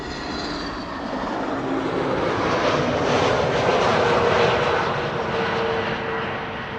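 An arriving airliner on approach to Amsterdam Schiphol's Kaagbaan runway 06 gives off a broad, steady jet roar that swells to a peak midway and then eases slightly, loud and with no voices.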